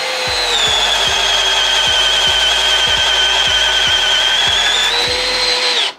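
A Milwaukee M12 Gen 2 hammer drill bores through wood with a 3/4 inch spider bit, a loud steady motor whine with a rapid regular ticking underneath, running continuously before cutting off at the end.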